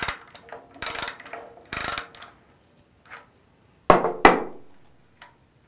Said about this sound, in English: Use a 1-inch wrench or socket to loosen and remove the neutral safety and